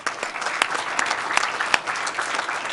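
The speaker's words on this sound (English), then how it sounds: "Round of applause" Applause for a student award winner at a school board meeting, a room of hands clapping steadily with several close, crisp claps popping out of the even wash.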